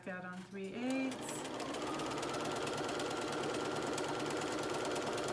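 A sewing machine stitching along the edge of a cloth napkin, a steady fast mechanical whir with rhythmic needle knocking that starts after a brief voice and runs on continuously, close and prominent.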